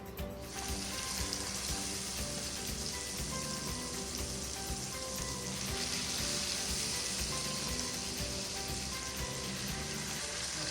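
Salmon sizzling steadily in a hot pan with rosemary, a dense, even crackle of frying fat that runs continuously and fairly loudly from start to finish, close by and with no voices.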